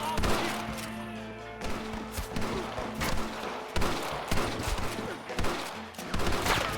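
Gunfire in Red Dead Redemption, a fusillade of repeated close gunshots cracking in clusters over a busy game soundscape, with a voice talking at times.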